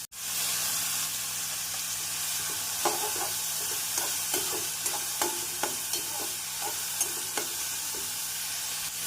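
Salted onions sizzle steadily in a hot pan for masala dosa filling, with a constant frying hiss broken by repeated scraping stirs, close up and without voices.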